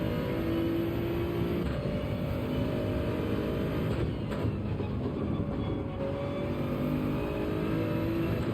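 A Toyota Supra race car engine in Gran Turismo 7 at Road Atlanta drones loudly and continuously, holding a steady high-revving tone with slight pitch shifts and no voices.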